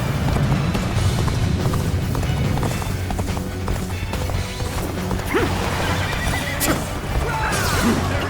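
A horse neighs in Dynasty Warriors Origins over a dense, busy battle soundscape of clashing and rumbling, with hoofbeats and crashes mixed into the constant din.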